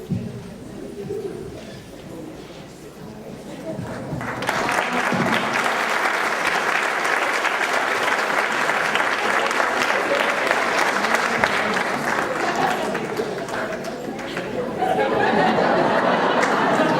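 Devotees at a silver jubilee celebration for a swami clap loudly and steadily, after a short stretch of murmuring and chatter, with a fresh burst of applause swelling near the end.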